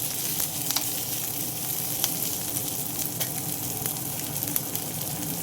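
Onions frying in a pan as they are stirred, a steady dense sizzle broken by scraping clicks of the spoon, close and continuous with no talking.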